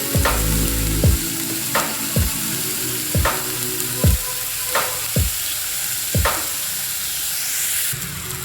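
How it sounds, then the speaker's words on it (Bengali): Onions and green chillies frying in hot oil for a Bengali foli fish curry, a continuous close sizzle punctuated by regular stirring strokes about once a second, with no talk. "পেঁয়াজটা ভাজা হয়ে গেছে,"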